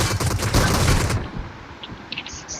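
Dense video game gunfire rattles loudly for about a second, then cuts off into quieter background noise with a few faint sharp clicks, no talk.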